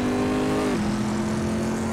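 A Corvette C7R race car in the Assetto Corsa racing game crosses the line, its engine holding a steady, loud drone that drops in pitch about a third of the way through, as if shifting gear.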